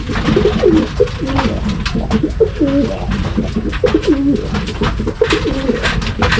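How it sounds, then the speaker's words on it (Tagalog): Large racing pigeons coo in repeated soft, rolling phrases, close and clear, over a light background of rustling and shuffling. "Ang laki na ito mga kalapatids."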